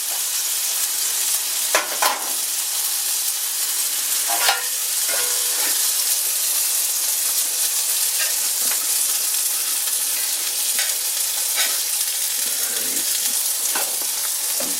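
Bacon and steak fry in a pan with a steady, close sizzling hiss throughout, broken by a few sharp pops and light scraping clicks, with no talk.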